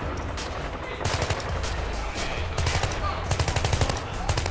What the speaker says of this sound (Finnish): Rynnäkkökiväärimiehet ammuskelevat toisiaan